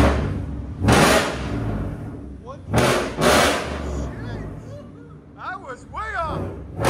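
A 2020 Ford F-150 5.0L V8, E85 tuned, with long tube headers and side-exit Dynomax Race Bullet exhaust, snaps through loud, short revs in an enclosed shop, three harsh bursts rising and falling, with people talking between them.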